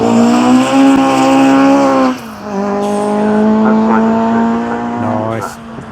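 Ford Escort race car at speed on track at Pembrey Circuit, a loud, close, steady engine note that drops briefly as it shifts gear, then climbs again and sustains before easing off.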